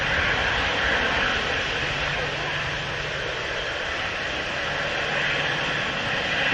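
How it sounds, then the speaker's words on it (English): A Virgin Atlantic Dreamliner jet departs, sending out a loud, continuous engine roar that stays broad and even from start to finish. "Dreamliner heading out to Montego Bay."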